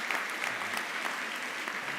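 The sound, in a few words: audience applause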